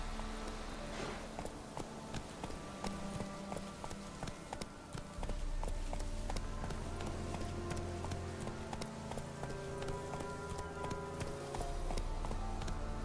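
Hooves clatter in a fast, steady galloping rhythm as a horse runs in The Witcher 3, continuous clip-clop over ambient game sound, with no talking.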